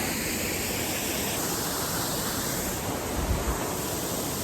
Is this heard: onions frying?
no